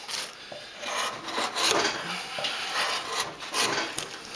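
A hand gouge pushed without a mallet scrapes and shaves wood out of a wire harp soundbox, giving close, rasping strokes repeated in an uneven rhythm.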